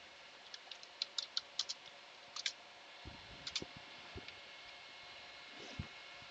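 Light, quick clicks of keys on a computer keyboard as a short command is typed, in a few uneven bursts, close but soft against a faint background hum; no one speaks.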